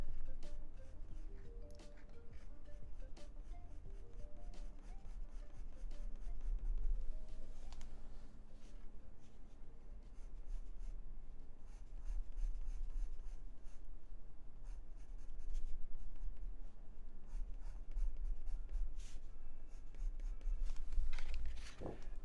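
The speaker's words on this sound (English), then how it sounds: "I'll take it over with a not that dark pencil." Pencil strokes scratching across drawing paper during a live portrait sketch, a steady run of short, close rasping strokes with brief pauses, mostly alone with occasional handling noise.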